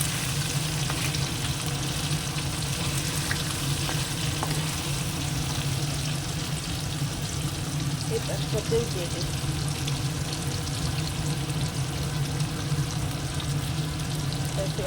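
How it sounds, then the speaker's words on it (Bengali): Fish frying in oil gives a continuous soft sizzle and crackle, with a person speaking briefly over it. "একটু ভেজে নেব মাছ ভাজাটা খুব সুন্দর মাছ ভাজা হয়ে গেছে"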